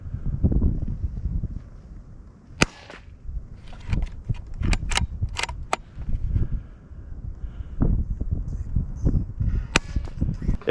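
Rifle gunshots while sighting in outdoors: a few sharp, loud cracks stand apart, one early and one near the end, with smaller clicks and handling noise between them over steady wind rumble.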